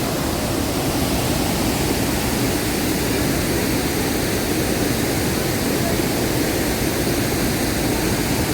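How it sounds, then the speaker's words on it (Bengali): Jonha Falls near Ranchi, where water plunges about 40 to 45 metres, roars as a loud, unbroken wash of noise from nearby, with no pauses from start to finish. "এখান থেকে প্রায় 40 থেকে 45 মিটার উপর থেকে জলটা পড়ছে।"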